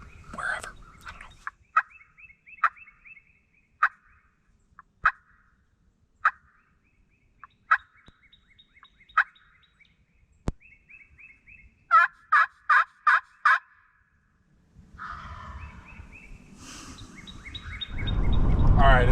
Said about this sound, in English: I had birds gobbling everywhere this morning.